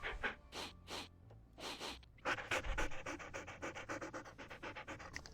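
A ghost dog in a video game pants quietly in quick, rhythmic breaths that run together into a steady, faint panting.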